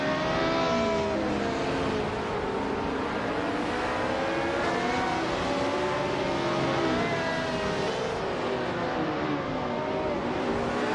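Vintage Formula 1 cars race at Fuji, their high-revving engines a continuous loud drone with several overlapping engine notes rising and falling as the cars shift and corner, with no talk.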